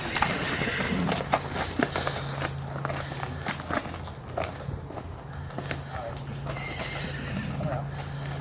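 A large farm horse walks outside, its hooves clopping in a steady rhythm close by, with a whinny and people talking over it.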